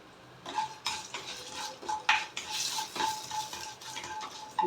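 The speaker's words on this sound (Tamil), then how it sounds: "பெருங்காயம் போட்டுட்டு நல்லா வதக்கிடணும்." A spoon stirs and scrapes asafoetida sautéing in a pan, giving repeated clinks and scraping strokes at close range with a faint sizzle underneath and no voices.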